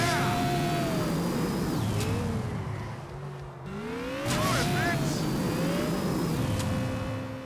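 Modified car engine with headers, full exhaust and nitrous oxide system in a Grand Theft Auto game, loud and close, revving with pitch climbing, dropping and surging again across several shifts.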